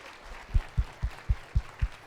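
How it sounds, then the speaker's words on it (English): At a reconciliation dialogue on heritage, an audience claps for a panel. Six slow, evenly spaced claps sound close and heavy over a faint hum of room noise. "Let's clap for the panel."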